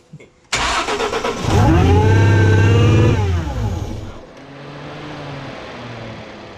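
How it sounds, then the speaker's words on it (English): A supercharged 3.7 Mustang engine fires up abruptly, then revs into a loud rising supercharger whine that holds before dropping back to a lower idle, heard close up. "I heard that fucking supercharger though."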